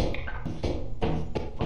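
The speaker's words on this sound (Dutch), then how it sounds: "Dat is het geluid van een shotgun die geherlaat wordt." Shotgun being reloaded in a video game: a few sharp mechanical clicks and clacks spaced unevenly over under two seconds, mixed into a busy game soundscape.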